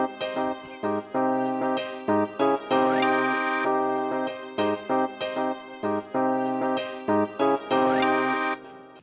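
A rhythmic beat runs under a sustained string section, bowed chords swelling in short repeated phrases with steady percussion pulsing beneath.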